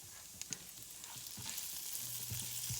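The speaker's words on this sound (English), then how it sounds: "Only let that garlic cook in that butter just for a few minutes." Garlic cooking in melted butter in a pan for an Alfredo white sauce, a soft continuous sizzle with a few light clicks of a utensil, quiet and close.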